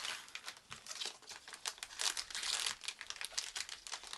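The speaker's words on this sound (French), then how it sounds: "on va ouvrir le premier booster" A Ghibli trading card booster pack torn open, crisp crinkling and rustling of foil wrapper in quick irregular bursts, close and fairly quiet.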